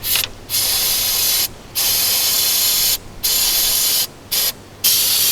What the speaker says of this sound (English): I'm going to use my degreaser, my brake cleaner, which is really good for cleaning all kinds of grease, and spray away